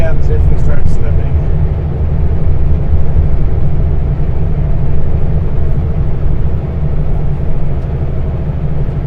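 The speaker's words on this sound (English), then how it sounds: "Alright, let's do a manual downshift." A heavy haul truck's engine grinds on an icy mountain road over the Paulson Pass, a loud, steady low drone with constant road rumble that barely changes across the whole stretch.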